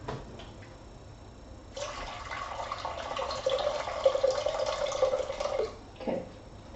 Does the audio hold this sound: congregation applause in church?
no